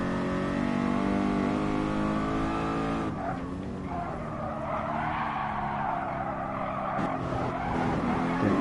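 Race car in Gran Turismo Sport on PS4 skidding with a sustained tire squeal over a revving engine, the pitch dropping as the car slides, then a second brief squeal near the end.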